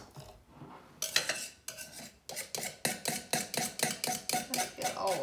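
A knife cuts through a slab of cooled Scotch goodies cookies with a lemon note, about a dozen firm, evenly spaced crunchy strokes that grow steady and regular, close and fairly loud, with no talking.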